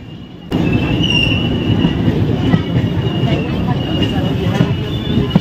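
The Shipra Express runs on its rails with a loud, steady rumble of wheels, a high squeal sustained over the roar and occasional clacks, heard close from inside the train after a quiet opening.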